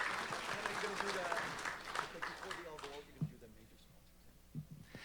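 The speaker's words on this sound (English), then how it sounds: "Give these guys a round of applause" Audience applause at a regional mayors' business awards event, a broad wash of clapping that swells early then thins out, with speech-like voices mixed throughout.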